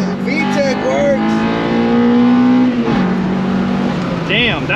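An old Honda engine revving hard into VTEC, a loud rising wail that climbs, shifts and climbs again, heard from inside the car with people talking over it.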